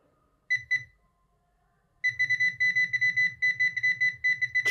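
Nokta AccuPoint pinpointer beeping over a metal target, two short beeps, a pause, then a fast steady run of loud, close electronic beeps.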